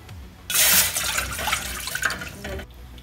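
Water is poured into a pan to make sugar syrup for a Black Forest cake, a brief, close splashing gush that tapers into a lighter trickle.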